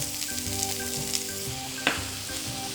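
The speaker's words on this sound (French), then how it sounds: "Vous faites chauffer un peu d'huile d'olive dans une poêle ou une sauteuse et on met les oignons" Onions frying in olive oil in a pan give a steady, close sizzle, with a brief clink of a utensil near the end and no voices.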